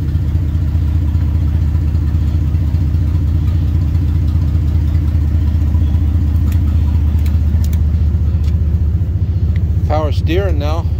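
Worn-out junk Jeep Cherokee with its engine running, a loud steady low rumbling idle filling the whole stretch, with a few faint higher sounds near the end.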